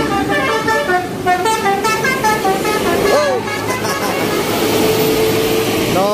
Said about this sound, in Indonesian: wah, kali ini ada bus Satu Nusa teman-teman.